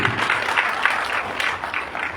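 Students and youth at a state convention break into vigorous applause, a dense steady clapping from a sizeable audience that carries on without pause.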